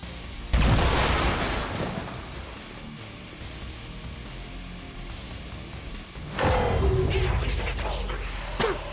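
Grenade explosions in the video game XCOM 2: War of the Chosen, with two sharp, moderately loud blasts several seconds apart over a low game background.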